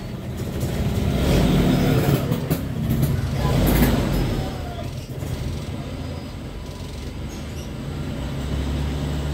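A Toyota Kijang Super engine idles steadily on its carburetor, a loud, continuous low rumble with slight swells in revving, close by and with no talk over it.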